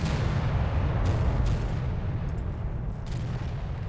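Warship turret guns in the Victory at Sea Pacific naval game, a loud sustained rumble of heavy gunfire and explosions that swells at the start and then rolls on steadily, with no talk.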